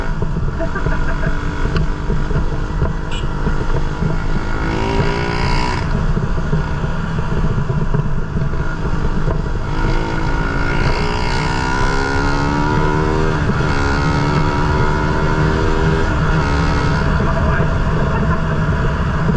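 Suzuki Raider 150 motorcycle engine revving, with a loud steady drone and rising and falling pitch sweeps as the throttle opens, close to the microphone, with talk mixed in.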